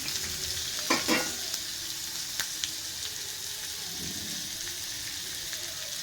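Onions frying in oil in a pan, a steady close crackling sizzle with a couple of brief stirring clatters near the start.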